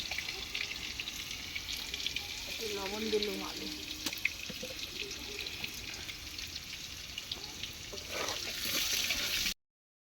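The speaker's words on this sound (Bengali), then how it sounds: "আলুটা ভাজছে" Steady crackling sizzle of potatoes frying in a pan, faint and continuous, with a brief voice murmuring partway through.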